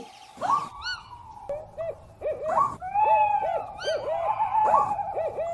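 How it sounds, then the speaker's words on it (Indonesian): Repeated electronic owl hoots, a toy-like call cycling several times with short gaps, fairly close and clear. "ini adalah kotak karakter burung hantu, teman-teman"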